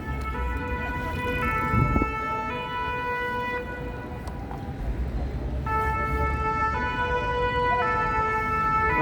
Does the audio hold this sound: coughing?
no